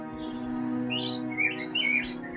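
Birds sing in the video game Mirror's Edge, a series of bright chirps and tweets rising over a low sustained musical hum, fairly close and clear.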